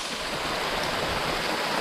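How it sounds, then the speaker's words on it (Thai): Rainy-season waterfall at Tha Song Yang, a steady, dense hiss of falling water, continuous and fairly close, with no voices. "ก็เป็นน้ำตกที่สวยงามมากเลยนะครับ"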